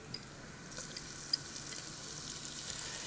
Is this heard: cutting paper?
no